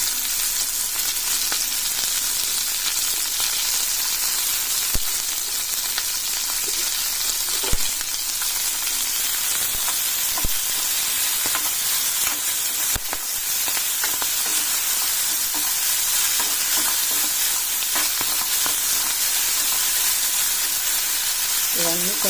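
Tomatoes frying in a pan with onions and curry leaves, a steady loud sizzle and hiss throughout with occasional scraping knocks as the mixture is stirred; no one speaks.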